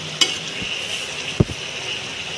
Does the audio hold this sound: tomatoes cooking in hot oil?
yes